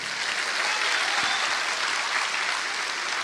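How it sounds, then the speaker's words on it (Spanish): A church congregation claps steadily in sustained, dense applause that fills the whole stretch without letting up. "Un aplauso al Señor."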